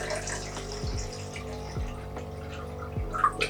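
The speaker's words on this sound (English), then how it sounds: "So right now, let me pour the water inside." Water pours into an Arissto Coffee Maker 2.0 reservoir, a continuous gentle trickle and splash under a low electrical hum, with a few soft knocks and no speech.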